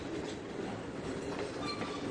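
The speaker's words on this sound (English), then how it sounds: "A little bit of train brake." A train in the Trainz 2022 simulator rolls along with a continuous steady rumble and faint wheel clatter as the brake is applied, with no voices.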